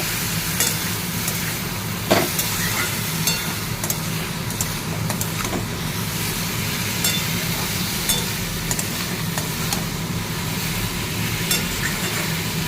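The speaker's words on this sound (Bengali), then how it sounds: "মশলাটা ভালো করে কষিয়ে নিলাম।" A spice mix of chili, turmeric, ground coriander and ground cumin sautés in a pan, giving a continuous low frying hiss with occasional scraping clicks of a spatula throughout.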